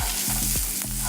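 Blanched broccolini and spaghetti squash sizzle steadily in a hot pan, a close, continuous frying hiss with soft stirring as the vegetables are tossed.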